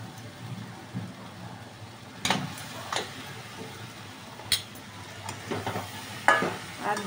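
Ghee added to chicken ghugni with potato and peas sizzles softly in the pan while a spoon stirs, scraping and tapping now and then over a steady low frying hiss.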